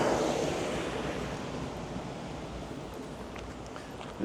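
Water dropping a long way down into a drain that carries it under a road at a wildlife refuge, heard as a steady, fairly loud broadband rush with no voices.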